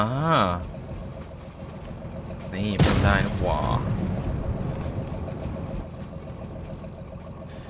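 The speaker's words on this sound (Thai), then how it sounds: "มันควรจะมีให้ลดเสียงเครื่องยนต์" A steady low tank engine drone runs throughout in World of Tanks Blitz, with explosive booms and rumbling game effects layered on top, while someone talks briefly.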